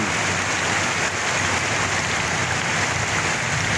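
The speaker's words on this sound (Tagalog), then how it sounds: "Grabe ang ulan." Heavy downpour, a dense, constant hiss of rain pounding surfaces, loud and unbroken for the whole stretch with no voices.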